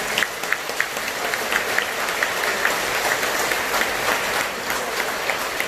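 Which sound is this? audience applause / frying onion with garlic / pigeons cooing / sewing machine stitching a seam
audience applause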